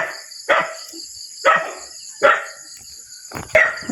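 A dog barks four times in sharp, evenly spaced bursts, fairly close and loud, with a faint high insect-like drone continuing in the background on a rural mushroom-foraging outing at dawn.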